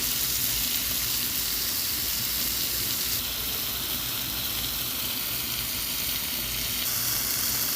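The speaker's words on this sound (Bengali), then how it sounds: "মাংসগুলো দিয়ে ভালোভাবে ভেজে নিতেছি।" Marinated chicken, coated in yogurt, ginger-garlic paste, biryani masala and chili, fries with onions in hot mustard oil in a loud, continuous, close sizzle with bubbling crackle throughout and no voices.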